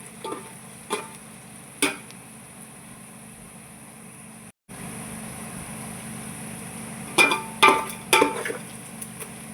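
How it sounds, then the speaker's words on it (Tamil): Chopped onions for chicken biryani sizzle in a pan as a steady frying hiss, broken by several sharp scraping clinks of a spoon stirring them against the metal. "இன்னும் நல்லா பொரியணும் வெங்காயம்"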